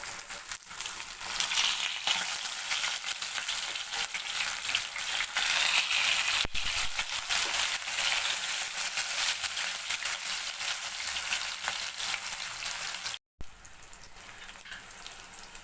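Bat fish, or pomfret, frying in a pan for a spicy Tamil home-cooked fry, a steady loud hiss and crackle of hot oil that continues unbroken with a brief cut near the end.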